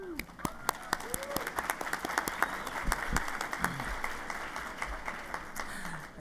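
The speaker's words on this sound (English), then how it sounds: "So please, let us give them a round of applause." A commencement audience at a university's spring graduation ceremony applauds students receiving divisional awards, steady clapping from a large crowd filling the room without pause, with a few voices and cheers mixed in under it.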